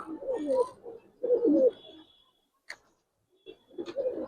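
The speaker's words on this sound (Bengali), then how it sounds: "দেখেন কবুতর" Giribaz pigeons in a loft coo in soft, throaty bursts up close. Short pauses break the cooing, and a few faint clicks and ticks fall between the calls.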